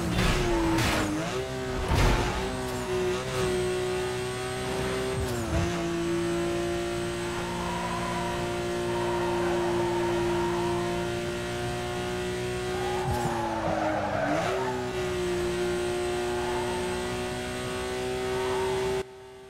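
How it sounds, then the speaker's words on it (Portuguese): Car engine racing in Need for Speed Most Wanted, a sustained high revving drone with gear-shift dips and tire squeals around it, loud and continuous throughout without talk. "o som desse carro é muito gostoso de ouvir"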